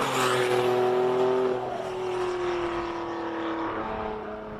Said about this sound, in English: GT350 Mustang gets off the start.